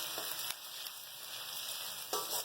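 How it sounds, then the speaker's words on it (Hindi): Garlic, ginger, curry leaves and cumin fry in a pan for a cauliflower and potato curry, giving a steady close hiss of sizzling oil with a few brief stirring scrapes. "हमारे लहसुन, अदरक, कड़ी पत्ता और जीरा अच्छे तरीके से हमारा फ्राई हो चुका है।"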